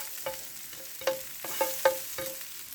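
Honey chicken is mixed in a frying pan, a quiet soft sizzle under a few distinct spatula scrapes and clinks spaced about half a second apart.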